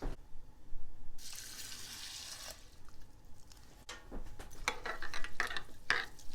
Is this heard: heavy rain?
no